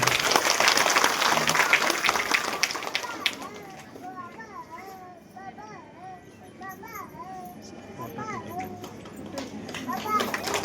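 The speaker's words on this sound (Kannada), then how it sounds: "ಜೋರಾದ ಚಪ್ಪಾಳೆಯೊಂದಿಗೆ" An audience at a women's forum applauds, loud clapping at first that fades within a few seconds, leaving children's voices chattering and chirping in the background.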